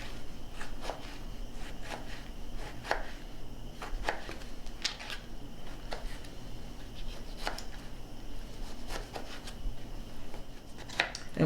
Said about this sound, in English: Now we want to chop this up into little tiny pieces